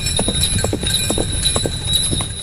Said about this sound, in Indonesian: Suara sepatu kuda menghantam tanah becek, mencipratkan lumpur seolah kuda itu berjalan dari dasar sungai.